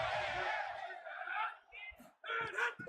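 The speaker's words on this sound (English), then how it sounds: "This crowd trying to make life miserable for this offense." Stadium crowd in the College Football 27 video game roars in a sustained, loud wave that dips briefly and then surges again.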